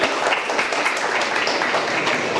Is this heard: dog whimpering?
no